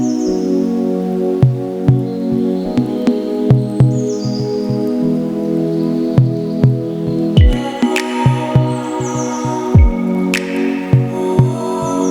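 Rain falls around Bicol International Airport, heard as scattered close drips and taps landing irregularly on a surface over a constant low hum.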